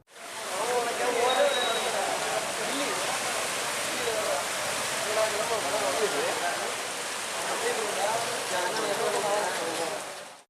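Heavy rain pours steadily in Mannargudi, a dense, even hiss of rainfall on surfaces that continues without break, loud and close.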